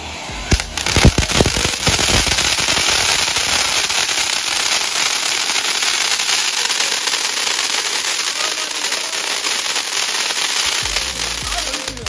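A Welcome Angel firecracker, lit outdoors, gives a loud, steady sputtering crackle and hiss that starts with a few sharp pops and keeps fizzing without a break.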